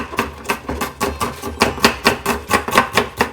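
A knife slicing an onion on a cutting board, with about a dozen crisp, evenly spaced chops in a quick steady rhythm, close and clear with no voices.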